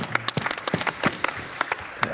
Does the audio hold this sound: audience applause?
yes